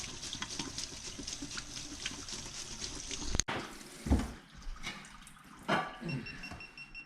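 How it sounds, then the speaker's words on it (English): Rice is rinsed in water, first with running water from a tap, then with sloshing and swishing as grains are stirred and drained in bursts. "So give it a good little rinse"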